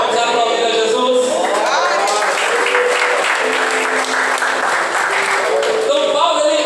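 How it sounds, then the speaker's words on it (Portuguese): A church congregation at a doctrine service applauds loudly and steadily for several seconds, a dense wash of clapping with voices calling out, easing off near the end. "Vamos aplaudir a Jesus."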